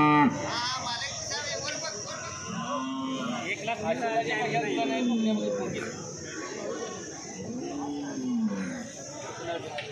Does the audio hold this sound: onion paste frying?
no